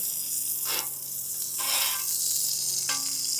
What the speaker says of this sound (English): So this is the beef tallow. Same stuff that I used in the dough. And we're gonna put this right on our cast iron skillet.